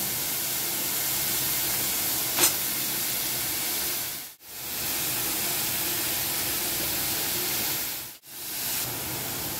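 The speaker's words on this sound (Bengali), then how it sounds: "এবারে চিকেনটাও দিয়ে দেব।" Chicken and mixed vegetables sizzle in a hot pan, a loud steady hiss that fills the whole stretch and breaks off sharply twice, with no talking.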